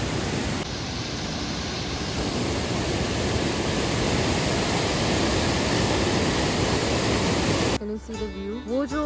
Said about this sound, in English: It's like the sound of the waterfall which is so heart-taking.